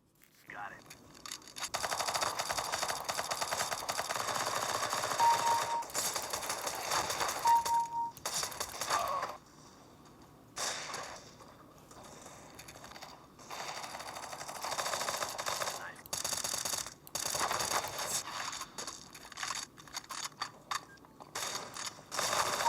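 Rapid mechanical clicking and gunfire-like bursts from a first-person shooter game play steadily, with a brief lull partway through and faint talk underneath.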